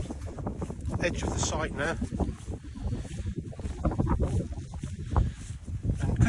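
Strong wind buffets the microphone on the flat edge of an estuary, a loud rumbling roar gusting throughout while someone talks over it.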